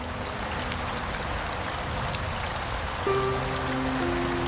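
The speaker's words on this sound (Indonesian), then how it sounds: "hujan gerimis pun datang." Light drizzle patters softly and steadily in an outdoor setting, a faint continuous hiss of fine raindrops with a low tonal hum joining near the end.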